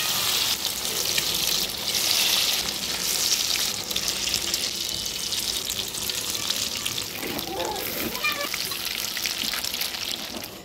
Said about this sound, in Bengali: আর তারপর আমি এক এক করে চিলি চিকেনগুলোকে আমি পকোড়া করে নিলাম